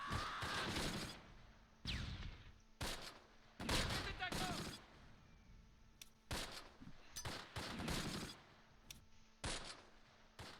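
Gunfire in the WWII tactical game Close Combat Last Stand Arnhem, set at Grave in September 1944: repeated bursts and volleys of rifle and machine-gun fire at irregular intervals, fairly loud, with softer gaps between them.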